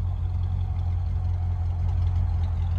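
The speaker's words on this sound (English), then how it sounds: "This car has a beautiful, nice little rumble sound to it." A 1979 Corvette idles with a deep, steady low rumble, close by and continuous, with no voices over it.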